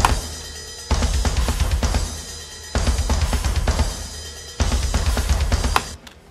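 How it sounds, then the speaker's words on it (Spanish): Metal-style drum kit layered with a deep, ancient-sounding battle drum ensemble, pounding in dense, heavy bursts that drop out briefly between three loud sections, with no talking. "Y con el drum ensemble suena algo así"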